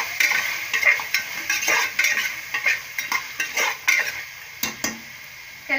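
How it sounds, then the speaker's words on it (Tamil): Mutton bones stirred in a cooking pot with a metal utensil, giving repeated clattering scrapes and knocks in an irregular rhythm, close and loud, with no talking. "இதே நம்ம நல்லா கிளறி விட்டுக்குவோம்."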